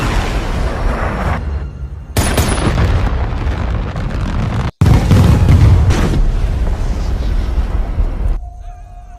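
Bombing explosions in an action film erupt as loud, sustained booming blasts and rolling rumble, broken by one abrupt cut before another heavy wave of destruction.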